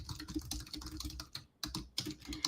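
Rapid keystrokes on a computer keyboard as a search query is typed, an uneven run of close clicks with a couple of short pauses, no talk.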